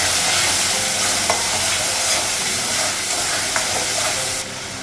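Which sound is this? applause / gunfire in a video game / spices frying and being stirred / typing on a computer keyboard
spices frying and being stirred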